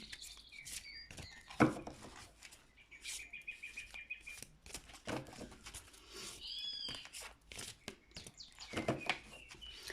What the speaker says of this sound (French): je vous ai mis le chant des oiseaux